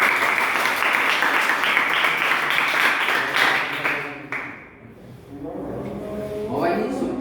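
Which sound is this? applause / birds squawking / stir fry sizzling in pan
applause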